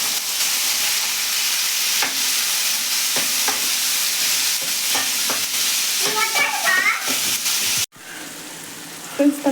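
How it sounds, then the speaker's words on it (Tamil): Tomatoes sauté in a hot pan with a steady bright sizzle, while a spoon stirs and scrapes through them in scattered clinks and knocks, close and loud, with a brief cut near the end. "தக்காளி நல்லா வதங்கிட்டு இருக்கு"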